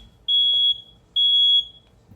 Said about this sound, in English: the smoke detector goes off.